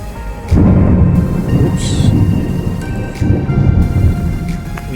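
Deep rumbling thunder rolls through steady rain, with a couple of heavier low booms swelling and fading over the downpour.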